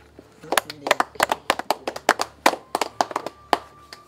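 Audience applause for parents at a Rwandan comedy event: a burst of hand claps, loud and close, with uneven rhythm running for about four seconds and no talk over it.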